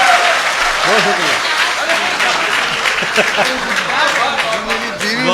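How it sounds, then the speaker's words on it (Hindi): Loud applause for the poet Jahaj Deobandi at an Urdu poetry gathering, a steady clatter of many hands with voices talking and calling out over it throughout. "जोरदार तालियां एक बार जहाज देवबंदी साहब के लिए।"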